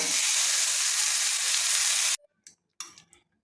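Boiled broad bean pieces are stirred as they fry in a pan, a loud close sizzle that cuts off abruptly after two seconds, followed by a few short scraping stirs.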